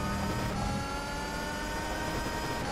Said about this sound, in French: C'est quand même un moteur de F1 quoi.